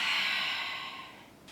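A single close, airy inhalation during a gentle gym exercise, strongest at the start and tapering off over about a second and a half, with no talking.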